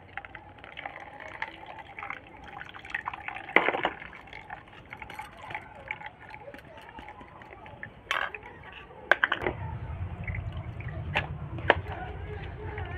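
Garlic and aloe vera juice strained through a sieve into a vessel: scattered soft drips and small splashes, then a fuller, steadier trickle of pouring liquid toward the end, close and fairly quiet.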